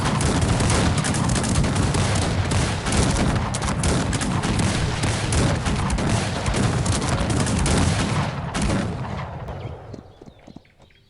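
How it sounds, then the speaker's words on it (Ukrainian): Dense, continuous gunfire and booming cannon blasts in the battle strategy game Cossacks 3 rattle nonstop for several seconds, loud and chaotic, then taper off into quieter scattered shots at the end. "дуже сильно стріляють по нас"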